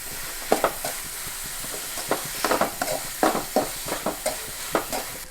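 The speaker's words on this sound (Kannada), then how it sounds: "ನಾವು ತಗೊಂಡಿರುವಂಥ ಈರುಳ್ಳಿ ಮತ್ತು ಟೊಮೆಟೊ ಇದನ್ನೆಲ್ಲ ಇಲ್ಲಿ ಆ್ಯಡ್ ಮಾಡಿ ಒಳ್ಳೆ ಹುರಿತಾ ಇದ್ದೇವೆ" Onion and tomato fry and sizzle in a pan for a Mangalorean egg ghee roast, with a steady hiss broken by repeated scraping stirs and clinks of a spoon against the pan, close and fairly loud.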